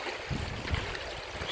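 A flowing stream in the Scottish Highlands in winter, its water rushing and trickling close by in a steady, unbroken wash with no voices.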